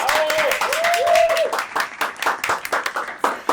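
A talk-show studio audience claps to welcome Endrina Yépez, sharp distinct hand claps that thin out into scattered, uneven bursts, with a voice heard briefly at the start.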